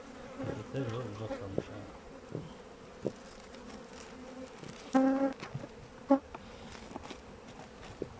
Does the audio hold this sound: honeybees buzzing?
yes